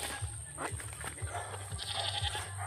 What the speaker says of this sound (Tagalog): Nino kambing yan?